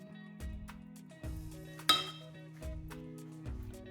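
Cooked rice being gently fluffed with a rice spoon to avoid breaking the grains for onigiri: soft, sparse scrapes and taps of the spoon against the bowl, one sharper clink among them, quiet and close over a low steady hum.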